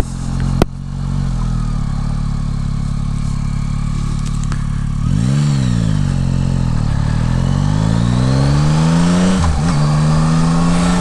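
A 2021 Yamaha Tracer 9 GT motorcycle engine hums loudly and close while riding, with two clear rev swells as the pitch climbs and drops, plus a sharp clack early on and no talking.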